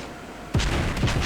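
A battleship's rear guns fire shells in a naval combat game, a sudden loud booming salvo followed by rumbling echoes, with no talking.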